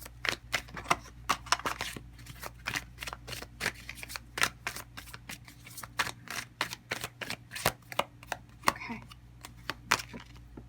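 Tarot cards are shuffled by hand in quick, crisp riffling bursts and taps, repeated many times at close range against a quiet indoor background with no speech.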